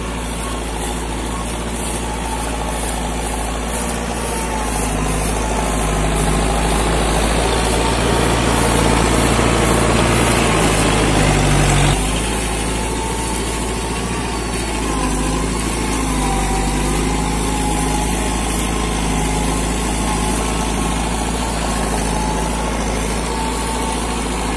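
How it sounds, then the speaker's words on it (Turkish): A TL100 tractor engine pulling a subsoiler drones steadily and loudly throughout, its pitch shifting slightly midway as it labors under load. "Ama bu sefer ithal traktörümüz TL100 ile vuruyoruz."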